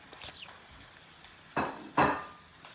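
A quesadilla slides back into a sprayed skillet on the stove, giving two short scraping thuds of pan contact close by, separated by near silence.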